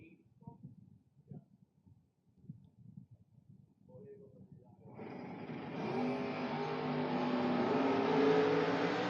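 Drag race cars, including a 1967 Corvette, launch off the line at the 2024 FRBR Independence Showdown, with engines roaring up into a loud, sustained rising drone after a stretch of announcer talk over quiet idling.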